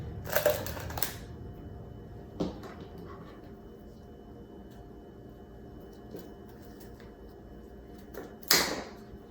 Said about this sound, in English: cutting the stem at the right level. And I'm cutting them at an angle.